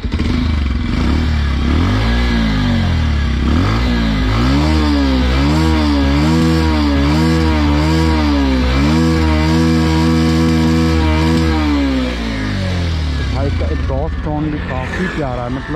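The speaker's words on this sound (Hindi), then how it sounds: "एग्जॉस्ट नोट सुना देते हैं, इसका एग्जॉस्ट नोट कैसा है।" Exhaust of a 2022 Bajaj Pulsar 125 BS6 motorcycle, a loud, steady engine drone with rising and falling revs held up close for most of the stretch, easing near the end.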